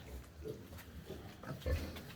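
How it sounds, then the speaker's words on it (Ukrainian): Piglets grunt in a farm pen during a power outage, with a few soft, low, scattered grunts heard faintly over steady background noise. "Прийшов перевірити наших поросяток."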